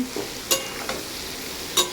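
Food frying in a pan at home, a soft continuous sizzle broken by a few sharp scraping knocks of a spatula stirring.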